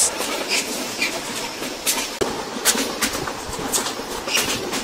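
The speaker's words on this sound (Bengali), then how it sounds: "এই মুহূর্তে আমাদের রূপসা এক্সপ্রেস ট্রেনের গতি হচ্ছে ঘন্টায় 85 কিলোমিটার প্লাস" Inside the Rupsha Express running at over 85 km/h, a steady rushing roar fills the carriage, broken by sharp, irregular rail clacks and knocks.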